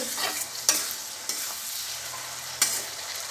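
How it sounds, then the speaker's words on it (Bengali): Tomatoes sauté in a pan, giving a low continuous sizzle broken by a few sharp scraping stirs of a spoon, close up with no talk. "টমেটোর থেকে জল বেরিয়ে জলটা শুকাবে ততক্ষণ পর্যন্ত কষিয়ে নেবে"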